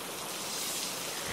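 Steady rain pours down in a Bengali fairy-tale cartoon, a dense, even hiss of falling water filling the whole short moment with no voices.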